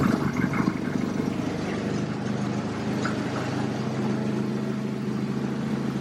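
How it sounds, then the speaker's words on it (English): Jeep engine idling with a slight knock, a steady low mechanical drone with a faint irregular tapping beneath it, heard close and without voices. "I do hear a slight little knock."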